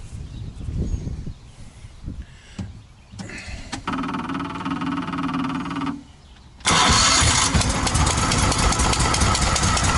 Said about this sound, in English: So I'm going to start it, run it, pump it through a second.